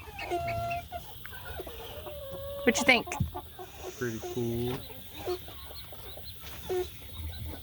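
Chickens cluck and murmur nearby in short, irregular calls, with a person speaking briefly among them.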